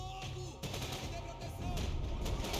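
Bursts of rapid gunfire in Max Payne 3, sharp repeated shots in clusters over a noisy background.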